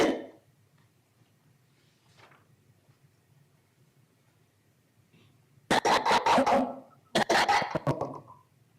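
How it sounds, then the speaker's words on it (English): Staccato dry coughing in the background of an undercover phone recording: two clusters of sharp, rapid coughs after a quiet stretch, fairly loud over a low hum. "You heard very staccato, dry coughing in the background there, right?"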